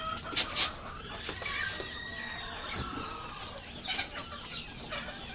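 Chickens cluck and squawk close by in short bursts, with a few higher calls scattered through a quiet background.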